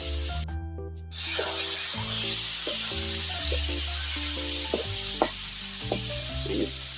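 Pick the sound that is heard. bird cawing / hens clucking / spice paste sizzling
spice paste sizzling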